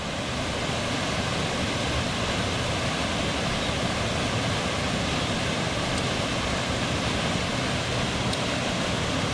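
Small waterfall where several creeks converge on Van Hook Falls Trail, a steady, loud, broadband rush of falling water, close and unbroken with no voices.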